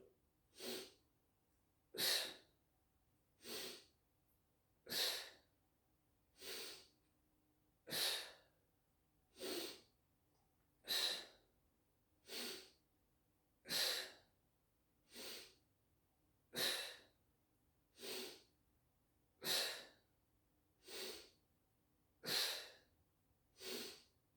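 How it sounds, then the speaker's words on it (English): Slow, steady breaths in and out repeat in a calm, even rhythm during a balance exercise class, each breath soft and close with quiet pauses between them. "Inhale, exhale."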